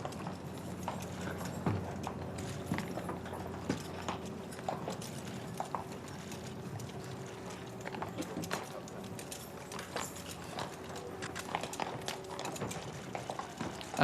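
Horses' hooves clip-clop steadily as a Royal Mews carriage procession sets off toward the castle during a French state visit, a continuous mass of overlapping hoofbeats at moderate distance with faint murmur behind.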